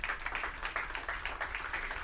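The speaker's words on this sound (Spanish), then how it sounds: "Le damos una ofrenda de palmas al Rey" A church congregation claps together in a steady, lively burst of applause, the overlapping hand claps forming a dense, continuous patter that fills the room for the whole moment, with no voices standing out.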